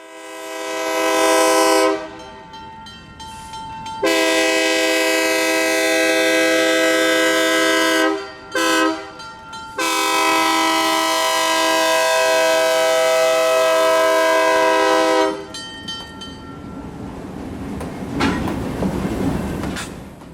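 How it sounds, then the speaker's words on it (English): Loud, multi-tone horn blasts from an Arkansas & Missouri Railroad freight train led by two C420 locomotives with a T6 switcher between them, sounding in long held bursts with brief gaps, followed by rumbling rail noise. "the classic T6 switcher sandwiched between the two C420s"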